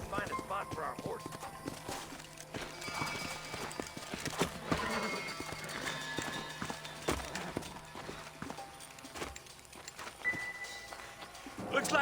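Horses clip-clopping at a gallop in the Western video game Red Dead Redemption, a steady rapid hoofbeat rhythm running throughout amid game ambience, with voices talking over it.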